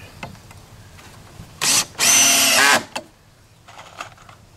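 A power drill drives galvanized square-drive screws into a fence rail during a fence post repair, a short whir and then a longer loud spin of about a second, with faint knocks around it.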